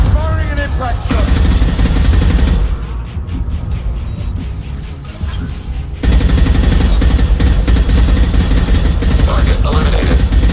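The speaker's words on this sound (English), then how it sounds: "Firing an impact shot." Loud, dense gunfire from an impact shot during a Mass Effect 2 firefight, with continuous shots and bursts that dip briefly mid-clip before resuming at full intensity, mixed with other game sounds.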